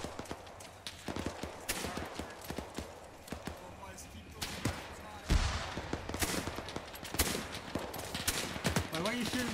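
Gunfire in the WW2 mod of the video game Arma 3, set in a winter war: rapid irregular rifle and machine-gun shots, some close and sharp, others distant, running throughout with players talking over it.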